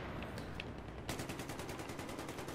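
Gunfire in the video game Battlefield 3: a few scattered shots, then a rapid, evenly spaced automatic burst, fairly quiet, with no talking.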